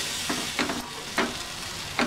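Milk poured a little at a time into a pan and stirred while making cheese garlic bread, heard as a few soft scraping strokes with a faint sizzle, spaced about every half second to second, with no talking.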